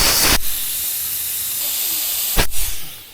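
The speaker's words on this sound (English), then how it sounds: "That tire's almost flat again. Let me air that up." Two loud bursts of compressed air hiss into a nearly flat car tire being aired up, one short blast at the start and another brief one near the end, with quiet room noise between.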